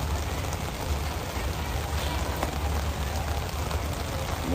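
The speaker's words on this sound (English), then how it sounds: "The rain has set in." Steady rain falls on a softball field during an 18U game, a dense, loud wash of noise that runs unbroken throughout with no voices.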